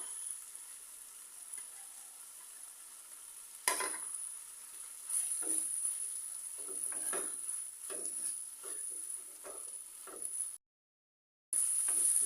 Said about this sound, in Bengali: ধনিয়া পাতা কুচি দিয়ে মিক্স খানি জাল করে নিয়েছি